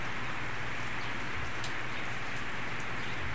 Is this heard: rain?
yes